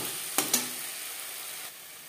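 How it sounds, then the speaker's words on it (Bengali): Spices mixed with onion and tomato in a frying pan for a small fish curry, two quick scraping stirs over a soft, steady sizzle that fades out near the end. "পেঁয়াজ টমেটোর সাথে মশলা বেশ ভালো করে মিক্স করে দেবো।"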